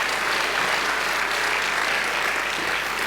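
Audience applause at a conference panel honouring a judge: a dense, steady wash of many hands clapping throughout, even and sustained without a break, with no voices standing out.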